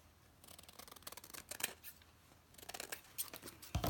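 Scissors snipping a paper hinge for a junk journal page, a few quiet close-up cuts with soft rustling of paper.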